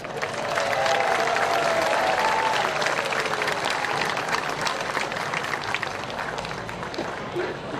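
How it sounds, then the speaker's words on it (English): Crowd applause at an outdoor presidential campaign stump event, a broad continuous clapping wash from many people, with a voice briefly audible over it near the start. "give your neighbor a round of applause"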